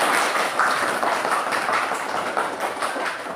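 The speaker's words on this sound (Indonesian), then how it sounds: "Iya, tepuk tangan dulu." Children applauding in a classroom, a dense, continuous patter of many small hands clapping at once, close and fairly loud throughout.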